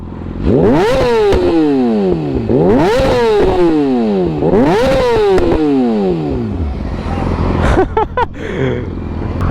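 A motorcycle engine revs hard three times in a row, each full-throttle climb rising and then dropping back, followed by a rougher idle with sharp clattering bursts. The sound is loud and close.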